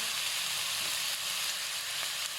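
Pork belly sizzles and fries steadily in a hot pan for a stir-fried red curry with celery and spring onion, a dense, continuous crackle close up with no talking.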